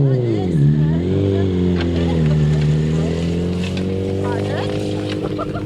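Grasstrack sidecar outfits on a lap of honour at a Danebury Aces meeting, engines droning loudly and steadily close by, with pitch rising and falling as they circle, under a continuous PA announcer's voice.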